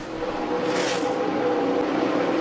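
Jeff Gordon's No. 24 NASCAR Cup race car on its final lap at Michigan, with a steady engine roar that swells briefly as it passes, heard from a distance.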